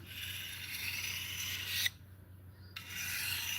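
A 2x72 belt grinder running an 80 grit belt, with a steady harsh rasping hiss that cuts out for about a second and then resumes over a low motor hum.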